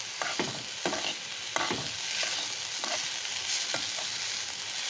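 Papaya upma with boiled potatoes being stirred in a hot pan, a steady sizzle broken by repeated scraping strokes of the spoon, close and fairly loud, with no voices.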